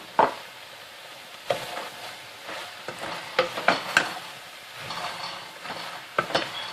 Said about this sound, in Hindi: अब ये हाफ वे मेरी फिलिंग कुक हो रही है